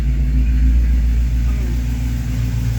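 A 1985 Chevrolet K20 truck engine idles a touch high in winter, a loud, steady low rumble held close and even throughout, with no change in pitch.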